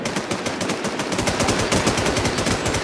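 Rapid machine-gun fire rattles nonstop at close range as shots rain on the player in a shooter video game, loud and evenly rhythmic throughout.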